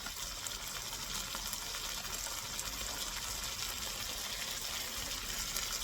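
Chicken broth poured steadily into a pancit bihon stir-fry with chicken, shrimp and vegetables, a continuous close gushing splash of liquid that stays constant throughout with no talking.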